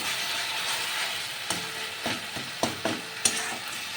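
Lote fish (Bombay duck) fries dry in a pan with a steady close sizzle, broken by several sharp scraping knocks of a spatula stirring; no talking.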